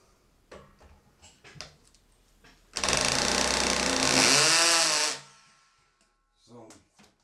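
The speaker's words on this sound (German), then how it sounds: "Ich bohre aber erstmal ein Loch." A power drill bores a hole while building a PC desk, running loud and steady for about two seconds with a rising whine as it bites, between quieter handling noises and brief talk.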